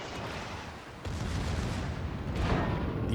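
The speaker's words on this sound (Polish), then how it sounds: "Włącza się do gry dodatkowa artyleria" Secondary artillery fires in the naval battle game World of Warships aboard the cruiser HMS Tiger, dense rumbling gunfire and booms rolling continuously, with heavier blasts at about one and two and a half seconds.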